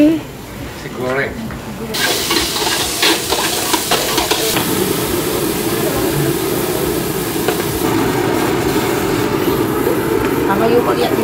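Fried rice cooks on a street food cart's wok, a loud continuous sizzle and frying roar with scraping stir strokes, while people chatter nearby throughout.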